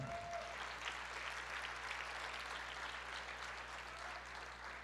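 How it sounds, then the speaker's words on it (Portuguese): A church congregation applauds, a steady wash of distant clapping over a constant low hum, with no talking over it. "Pode aplaudir."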